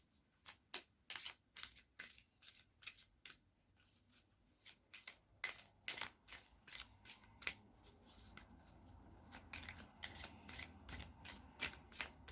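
A tarot or oracle card deck being shuffled by hand, a quick run of crisp riffling bursts repeated steadily and close up, with no talking.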